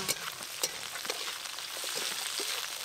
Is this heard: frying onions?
yes